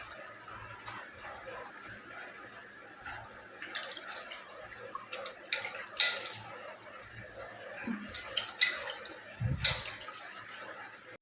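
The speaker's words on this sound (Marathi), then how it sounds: "सर्व मच्छी अशी धुवून घ्यायची आपल्याला." Running water splashes and trickles steadily as a catla fish is rinsed clean by hand, with occasional louder splashes and knocks of handling, fairly quiet and close with no talking.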